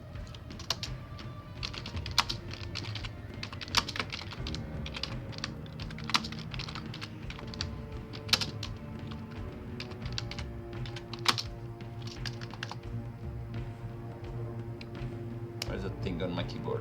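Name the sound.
typing on computer keyboard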